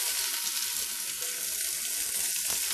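Onions hit hot oil with garlic in a pot for minestrone soup, giving a loud, close, continuous sizzle and crackle that holds steady throughout with no voices.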